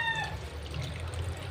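Water pours steadily into a pot for a moment, a continuous splashing trickle over a low background hum.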